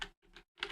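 Three short clusters of typing on a computer keyboard, faint and close, separated by brief silences.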